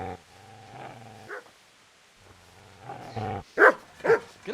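A dog in the game Kingdom Come: Deliverance barks several times in sharp, loud bursts near the end, after someone speaks angrily over a lower, growling stretch.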